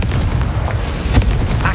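A fiery blasting-curse explosion from a wizarding video game, a dense, steady booming roar that fills the whole clip with a couple of sharper bursts rising partway through.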